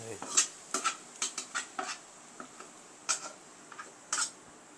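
A spoon scrapes and clinks against a pot while chicken, oil and onions are stirred for dum biryani, a series of sharp metallic taps and scrapes, close but fairly quiet with faint background.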